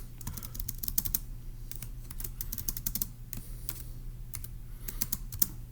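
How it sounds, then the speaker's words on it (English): Someone types notes on a computer keyboard nearby in a quiet room, with bursts of quick key clicks separated by short pauses and no talking. "So let's go ahead and type that up in our notes for section E."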